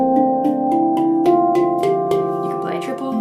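Handpan struck in quick double strokes, each pair of clear ringing metallic tones sounding at a steady rhythm, close and fairly loud, with long overlapping sustain and no voices.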